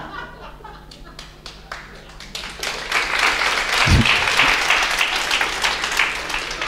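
An audience in a lecture hall breaks into applause, starting with scattered claps that swell into steady, dense clapping with a few chuckles mixed in, continuing to the end.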